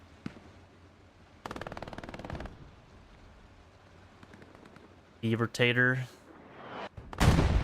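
Machine gun fire in the WWII shooter Hell Let Loose, heard as a rapid burst of rattling shots near the start under a commentator's continuous voice, with a few isolated single cracks and a second sharp burst near the end.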